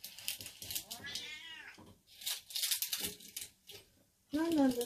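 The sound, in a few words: cat meowing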